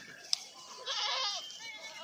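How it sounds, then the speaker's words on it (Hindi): A herd of goats bleats in a village field, with one short sharp cry followed by a longer blended chorus of mid-distance bleating over faint background noise. "ये है जनाब"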